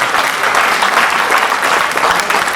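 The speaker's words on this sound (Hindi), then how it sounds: "गूंज के दरमियान" Dense crowd applause at an Awami Vikas Party election celebration in Mumbadevi, loud and sustained without a break.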